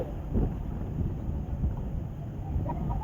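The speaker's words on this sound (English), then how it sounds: "It's very windy." Strong wind blows across the open deck of the Sapphire Princess cruise ship, a constant low roaring rumble buffeting the microphone with occasional gusts, with no voices.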